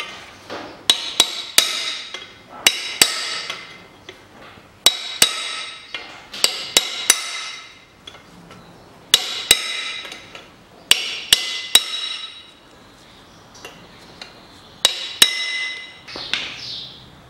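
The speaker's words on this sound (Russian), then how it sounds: "А теперь металлическую обойму беру ее и сминаю." Repeated sharp metallic hammer blows crush a metal bushing sleeve from a 2008 Mitsubishi Pajero rear trailing arm, landing in quick clusters of three to four ringing strikes separated by short pauses, close and loud.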